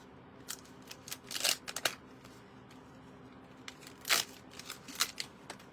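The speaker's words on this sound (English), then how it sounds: "Let's see if I can cut it in half." Small scissors snipping through a large adhesive glue dot at a card-making table, with a few quiet, close crisp cuts and rustles in uneven bursts.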